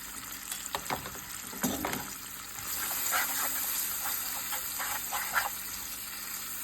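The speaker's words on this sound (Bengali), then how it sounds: "ভালো করে কষিয়ে নিব।" Spices with turmeric, salt and chili powder frying in oil with a splash of water in a pan for bottle gourd and prawn curry, a steady close sizzle broken by stirring scrapes and small bubbling bursts.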